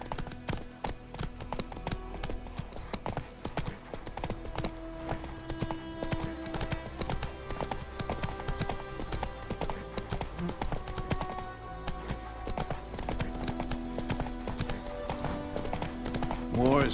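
Horse hooves clip-clop in a steady rhythm in the video game The Witcher 3, heard alongside game music and ambient sound with distant voices.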